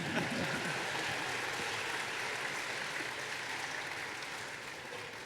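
Faint applause from a convention audience at BronyCon 2019, a soft, even patter of clapping that slowly fades over a few seconds.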